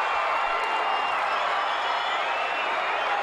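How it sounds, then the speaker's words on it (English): A fired-up wrestling crowd at a Rock N Roll Express vs Dirty White Boys tag match roars steadily, a dense wash of cheering and noise that holds throughout without letup. "This crowd is fired up."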